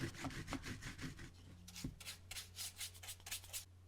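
A brush dry-brushing silver paint onto an 8-inch MDF model building, a series of quick, close, dry rubbing strokes in an uneven rhythm, soft and scratchy.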